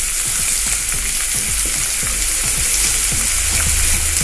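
Chopped onion fries in oil with dal and mustard seeds, a steady loud sizzle broken by repeated scraping stirs, with no talk.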